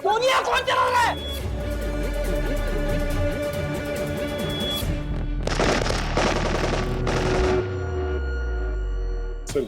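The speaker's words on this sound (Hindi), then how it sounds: "गोलियां कौन चला रहा है?" Bursts of rapid gunfire crackle loudly in rattling volleys, mixed with a steady electronic ringing tone and dramatic music; no clear speech.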